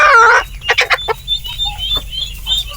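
Native chickens feeding on organic scraps give a burst of clucking followed by short scattered clucks and soft calls, close by and fairly loud with no talking.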